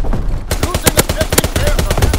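Rapid automatic gunfire from a fighter plane's strafing run in the WWII shooter Call of Duty: WWII, a dense, loud burst of repeated shots continuing for about two seconds after a brief quiet start.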